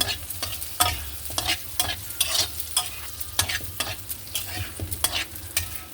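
Onions fry in a pan while a spatula scrapes and stirs in quick, irregular strokes over a constant close sizzle.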